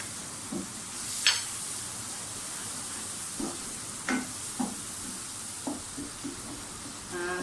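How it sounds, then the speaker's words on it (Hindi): Tomatoes fry and sizzle in a pan under a steady hiss, with a spoon stirring and knocking against the pan in irregular taps and scrapes, close up and without talk. "टमाटरों को अच्छी तरह से भून लें। थोड़े थोड़े गलना शुरू हो गए टमाटर।"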